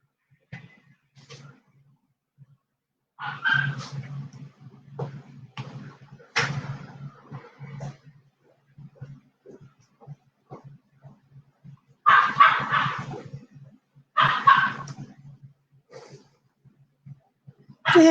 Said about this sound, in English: if you hear barking, it's because we have a brand new puppy